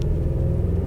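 An armored Lexus LX 570 accelerates hard, its engine giving a steady, heavy low rumble that stays loud and even throughout the short moment, with no voices over it.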